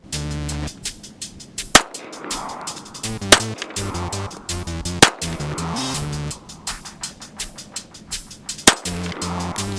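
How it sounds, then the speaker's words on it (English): A Girsan MC1911C 1911 pistol fired with steel case rounds: loud, sharp gunshots spaced one to two seconds apart, each with a short echoing decay, ringing out alone with no talk. "Let me load up 8 more rounds of steel case and some rounds of hollow point"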